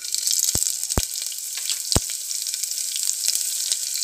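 Chopped green chillies sizzle in hot ghee with mustard seeds, cumin and asafoetida while savoury daliya is prepared, giving a steady, close frying hiss with a few sharp pops and crackles.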